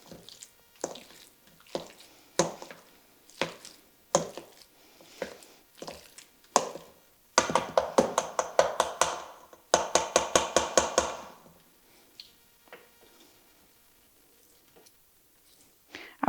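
Fresh avocado is mashed in a bowl for guacamole, with sharp wet squishes and taps coming in a steady rhythm and then in faster clustered bursts, up close with no talking.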